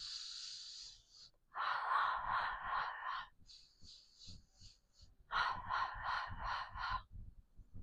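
Pilates percussive breathing, two bursts of short rhythmic forced breaths through the mouth, close and clear, separated by a pause with a sharper hiss at the start.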